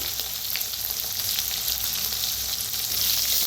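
Crushed green chilli, garlic, onion, coriander leaves and coriander seeds with curry leaves fry in a pan, giving a steady, loud, close hiss of sizzling oil throughout with no talk.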